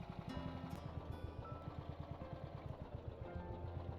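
Tractor engine in a modded Minecraft farming game, a steady low chugging idle with rapid regular pulses, close and continuous with no talk.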